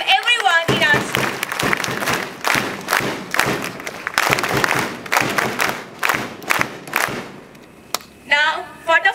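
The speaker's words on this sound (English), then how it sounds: "Give a huge round of applause and welcome everyone in our school." Audience clapping and cheering at a school morning assembly welcoming Italian delegates, loud and dense applause from a large crowd with bursts of shouting, a voice over a microphone before and after.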